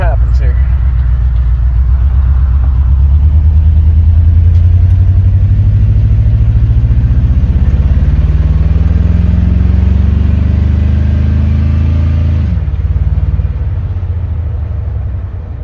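A Chevy C10 pickup with a swapped 5.3 V8, running on old watery gas, rumbles loudly and close as it pulls down the road, the engine note rising and falling through the drive before easing off near the end.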